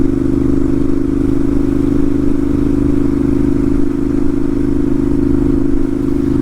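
Ducati 796 Monster V-twin motorcycle cruising at about 55 mph in sixth gear near 3,000 RPM, a steady loping engine drone heard close and loud throughout, with constant wind and road rumble.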